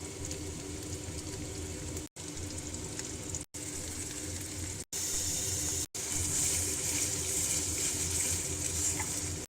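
Tomato paste fried in a pan during preparation of a pomfret macher jhal, a loud, continuous hissing sizzle that holds steady throughout, broken by several brief cuts to silence and swelling slightly toward the end.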